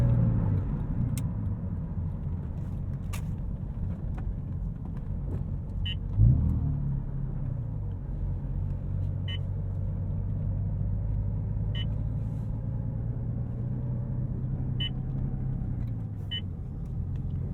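A 2002 Porsche 996 911 Turbo tuned to 600 hp being driven at night, heard from inside the cabin as a steady low engine drone and road rumble with a brief surge midway, with no talk.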